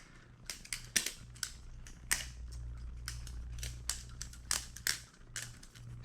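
A Cygnus flipping knife is flipped dry without lube, producing a quiet series of sharp, irregular mechanical clicks and snaps at close range over a low background hum.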